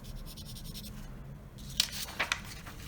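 A colored pencil drawing and blending on paper with a white pencil, soft close scratchy strokes rubbing steadily, then a few brighter, quicker scrapes near the end.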